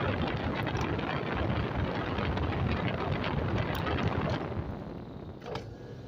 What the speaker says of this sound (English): I know my air is a little loud, so I'm going to pull this over here so you don't have to hear the rushing of the wind